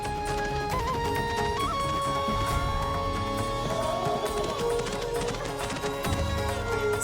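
Horses' hooves clop along during the Pandharpur Wari pilgrimage procession, one horse ridden and one riderless, blended into a dense crowd din with loud music and drums throughout.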